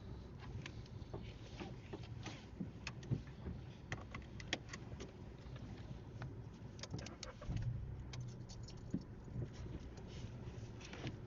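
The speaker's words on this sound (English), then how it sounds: "I'm just going to drive out the car park and turn right." A car pulls out of a car park during a mock driving test in Newton Abbot, heard from inside as a quiet, steady engine hum with small clicks and knocks throughout, and no talking.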